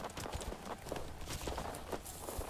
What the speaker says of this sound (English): You can hear the snow, the footsteps in the snow.